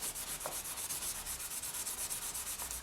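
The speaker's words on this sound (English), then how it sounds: "So just make sure you spend plenty of time sanding this." Steady, rhythmic rubbing strokes of sanding polymer clay, a soft repeated scratchy hiss close up with no voices.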